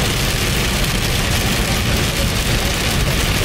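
Heavy rain drums steadily on a vehicle during a spring thunderstorm, a loud, unbroken wash of hiss close by, with a low engine rumble beneath and no voices.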